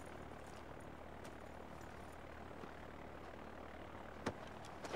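Steady aircraft engine drone from a plane about to take off in the Far Cry 4 video game, a continuous loud broadband roar with a couple of brief sharp clicks near the end.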